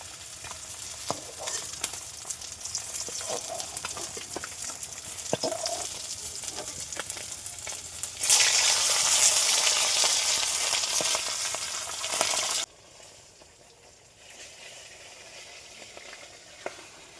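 Steady crackling sizzle of Sundarbans fish frying in hot oil, loud and close, growing louder midway before dropping to a softer hiss.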